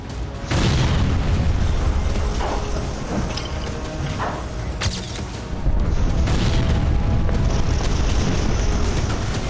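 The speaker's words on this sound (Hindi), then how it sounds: "डोनेट्स्क के बाजार में एक जोरदार धमाका हुआ" Heavy rumbling blasts and crackling bursts, a loud explosion roaring through a market in Kostiantynivka, Donetsk region, with sharp impacts and a second surge of noise midway.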